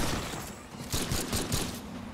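Gunfire in the video game Remnant 2 during a hardcore permadeath run, a quick burst of several rapid shots over a dense noisy game soundscape.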